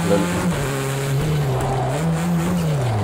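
Racing car engine in a sim racing video game, a steady droning tone that rises and dips slightly as the car slides, continuous and fairly loud with no talk.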